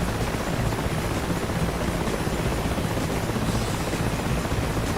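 Rotor chop and engine whine of an Mi-8 and an Apache helicopter in the combat flight game DCS World fill a dense, steady, loud wash with no voice over it.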